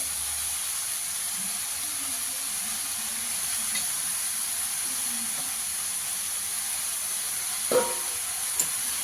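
Tender spinach going into a pan of sizzling fried masala, a steady hissing fry close by with a couple of brief clatters near the end, no talking.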